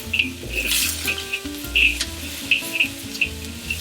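Peanuts and chili peppers frying in hot oil in a wok, with a steady close sizzle and crackle and a few sharp pops and utensil scrapes, no talking.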